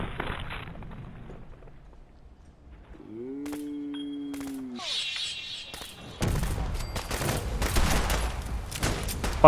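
Enemies open fire in a video game: bursts of gunfire crackle and rattle, growing denser and louder in the second half, with a steady whining tone and scattered impacts around them.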